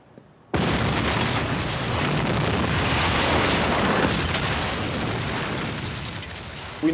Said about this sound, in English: we thought it would be fun to blow up Angel's offices